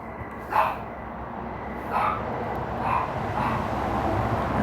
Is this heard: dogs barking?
yes